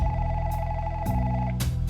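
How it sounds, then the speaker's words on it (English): Telephone ringing in the video game Inspector Waffles, a steady electronic ring tone repeating in short bursts over a low ambient game soundtrack, close and moderately loud. "The phone won't stop ringing."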